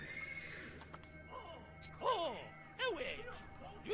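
A horse in a video game whinnies twice in quick succession from a stable, the second call sharper, over a steady low background hum.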